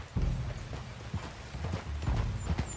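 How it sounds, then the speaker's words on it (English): Horse hooves gallop in Red Dead Redemption 2, a steady rhythmic clip-clop of repeated thuds, fairly loud and close, running continuously through the moment with no talk over it. "Okay, get on your horse."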